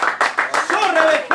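Clapping in a church service rings out in sharp rhythmic bursts, about eight evenly spaced claps, loud and close, with a voice sounding over the beat.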